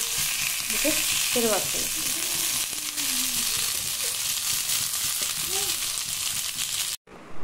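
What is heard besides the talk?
fish frying on a tawa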